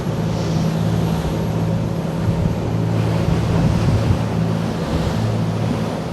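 Boat engine drones beneath rushing, splashing waves and wind buffeting the microphone on a sea passage along the English south coast, a constant loud churn with no talking.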